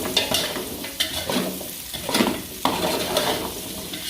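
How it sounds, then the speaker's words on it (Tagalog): Carrot and radish stir-fried in a pan for Thai mixed vegetable stew, with a steady sizzle broken by several scraping stirs of a utensil at a close, moderate level. "kailangan natin itong hanguin para madali nating ma-stir fry yung mga gulay"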